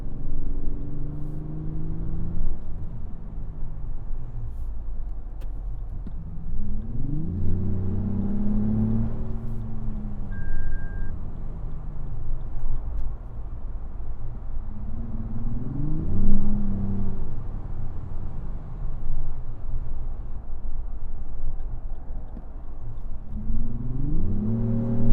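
The 2025 Lexus GX 550 engine revs up through repeated gear shifts, each one a rising surge that drops back, while accelerating onto a highway, heard steadily from the cabin with no talking.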